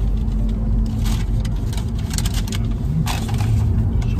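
Inside a car on a long ride, a steady low road and engine rumble fills the cabin, with faint clicks and rattles over the top and no voices.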